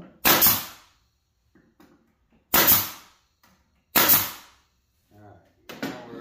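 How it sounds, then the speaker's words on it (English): A nail gun fires nails into a wooden planter box, three sharp loud shots with decaying tails and a fourth near the end, with brief quiet handling noises and a short spoken murmur between. "Might even shoot the nails."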